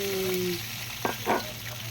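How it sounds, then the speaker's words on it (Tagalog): Water poured into a hot cooking pot of salted broth with greens sizzles and splashes in short, close bursts over a low steady hum, with no talking. "lagyan natin ng water"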